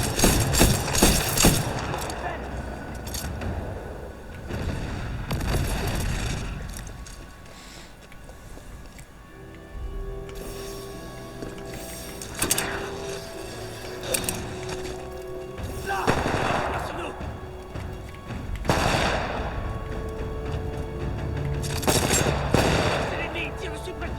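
Intense gunfire and explosions in the Titanfall 2 shooter game, repeated bursts of automatic fire and heavy booms across the whole stretch, loud and dense with only brief lulls.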